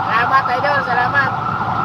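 Warbling ambulance siren, close and loud, in a short burst over engine and road rumble from a truck on the road.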